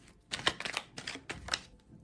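Classic tarot cards drawn from a deck: a few soft, close papery slides and snaps, brief and faint, in quick succession over a couple of seconds.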